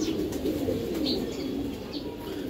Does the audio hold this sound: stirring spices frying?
no